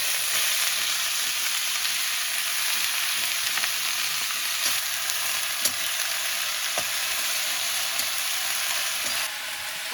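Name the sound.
vegetables frying with turmeric and salt on a wood stove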